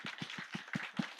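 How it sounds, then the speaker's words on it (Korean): Rhythmic clapping at a Korean church service, about six evenly spaced claps in just over a second, fairly faint and alone. "우리 그 하나님께 감사의 박수를 드리겠습니다."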